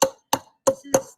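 Four sharp crunching impacts spaced about a third of a second apart, peppermint candy being crushed under the bottom of a cup, close and loud with brief silences between.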